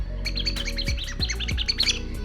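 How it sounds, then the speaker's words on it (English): A column tweeter squeaker inside a plush toy is shaken up and down, giving a rapid series of bright, bird-like chirps and tweets, close and clear, with soft thumps from each shake. "It makes more of a tweet or like a bird chirping sound when you shake it up and down."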